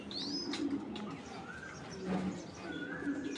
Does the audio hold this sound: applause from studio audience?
no